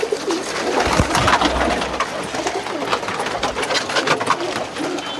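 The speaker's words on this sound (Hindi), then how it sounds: "ये इस कबूतर का बच्चा है।" Soft, low cooing of a pigeon and its grown chick amid a busy, noisy background with some rustling, fairly close but partly masked.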